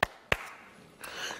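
Two sharp hand claps about a third of a second apart, close and fairly quiet, followed by faint indistinct noise in a quiet room.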